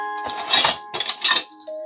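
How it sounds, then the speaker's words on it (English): A small vintage bell is struck twice in quick succession, each strike giving a bright, ringing chime that fades with a lingering metallic tone. "And a little bell."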